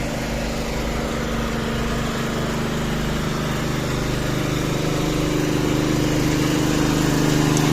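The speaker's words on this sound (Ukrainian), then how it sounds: "послухаємо шум генератора" A generator runs close by, a steady droning hum with a constant low pitch that holds evenly throughout.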